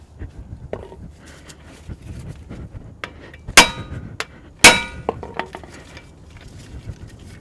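Hammer blows on a brake rotor being knocked off the front wheel hub of a GM 4WD SUV, a Chevrolet Avalanche, with two sharp loud metallic strikes among lighter taps and clinks in a quiet garage.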